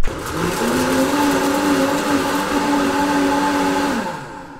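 A food processor blends chunks of watermelon into a liquid for homemade ice cream, its motor whirring loud and steady at close range before winding down and stopping near the end.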